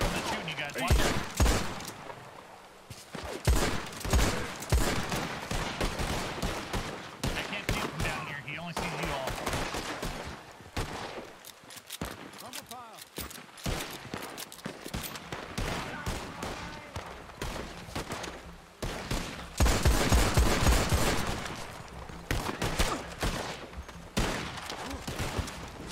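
Gunfire in Red Dead Redemption on the WildRP server, with dense, continuous volleys of rapid shots and bursts layered over one another throughout, loud and close, and voices talking at times.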